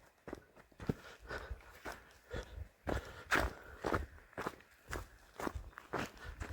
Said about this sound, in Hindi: केवल चलते हुए अपने पदचाप, चिड़ियों की चहचहाट, बीच में किसी जानवर के आवाज़ ये सुनने को मिल रही है।